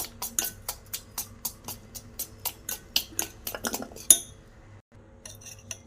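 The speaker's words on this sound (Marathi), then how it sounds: "थोडं थोडं करून असं मिक्स करून घ्यायचं आहे" A spoon mixes batter for a healthy breakfast in a bowl, clinking in a steady close rhythm of about a dozen strokes before a final louder knock and a pause.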